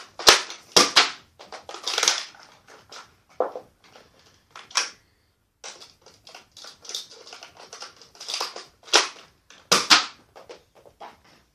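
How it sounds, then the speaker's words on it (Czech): A Nerf Zombie Strike Sledgefire blaster is cocked and fired, producing a series of sharp plastic clacks and snappy pops in irregular bursts, close and dry in a quiet room. "Takže tohle bylo střílení z Nerfky, Zombie Strike Sledgefire."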